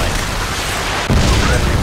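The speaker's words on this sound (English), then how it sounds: "Friendly Predator missile inbound." Predator missile explosion in Modern Warfare 2 on the Derail map during Ground War Domination: a sudden loud deep boom cutting into dense, constant battle noise, with voices in the mix.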